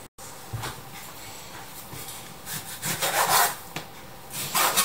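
A knife cuts pork belly into cubes for homemade jarred sausage, making uneven scraping and thudding strokes on a cutting board that grow more frequent and louder toward the end, close by.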